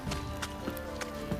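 Roach the horse's hooves in The Witcher 3 clop in an even, rhythmic pattern over a low hum of background sound, soft and a little muffled.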